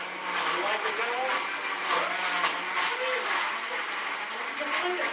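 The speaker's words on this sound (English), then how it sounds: "This is a blender." A blender runs continuously with a dense, whirring roar at close range while voices talk over it.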